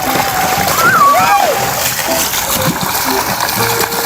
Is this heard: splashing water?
yes